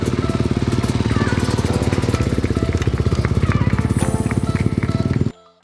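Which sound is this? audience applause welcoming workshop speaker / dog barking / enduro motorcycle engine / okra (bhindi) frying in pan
enduro motorcycle engine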